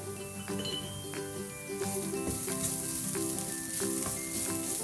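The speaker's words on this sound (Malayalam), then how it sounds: "ഇത് നന്നായിട്ടൊന്ന് മൂത്ത് വരുമ്പോഴത്തേക്ക് അതിലോട്ടൊരു 1/2 ടീസ്പൂൺ ഗരം മസാലയും കൂടി ചേർത്ത് കൊടുക്കാം." Masala for a samosa filling frying in a pan with half a teaspoon of garam masala, a steady close sizzle with scattered clinks of a spoon under music-like tonal background.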